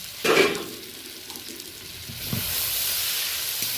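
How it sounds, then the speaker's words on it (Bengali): Prawns and vegetables with mushroom sizzling in a pan as the lid comes off, a short sharp burst of noise followed by a quieter steady hiss that grows louder and brighter toward the end, with no talking. "একটু পরেই আমি ঢাকনা খুলে নেড়ে দেবো আর মাশরুমটা অ্যাড করব।"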